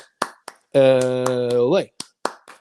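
A handful of sharp hand claps, spaced in a loose rhythm, bracket a sustained shouted voice at the close of a UCLA Bruins sports podcast, crisp and near.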